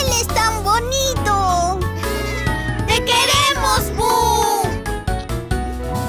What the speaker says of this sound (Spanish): Conozcan a mi amigo, mi adorable gato Boo